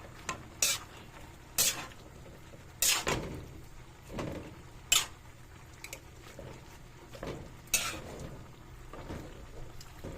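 Kangkong adobo, water spinach simmered with vinegar, stirred in a frying pan: a spatula scrapes and clacks against the pan in separate sharp strokes, over a soft, low simmering background.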